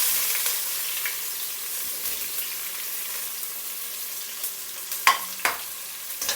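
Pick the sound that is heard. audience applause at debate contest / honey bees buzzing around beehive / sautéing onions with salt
sautéing onions with salt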